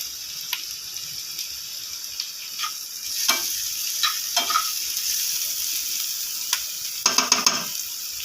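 Vegetables with chopped tomato and green chilli fry in a pan, giving a continuous sizzling hiss broken by scraping stirs and a quick run of spatters near the end.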